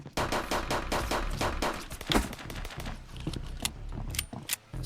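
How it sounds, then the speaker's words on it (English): A turret in the sci-fi shooter game Shell Runner fires rapid, closely spaced shots, a dense clattering rattle of gunfire that runs almost continuously and then thins into scattered bursts near the end. "What is this turret shooting at?"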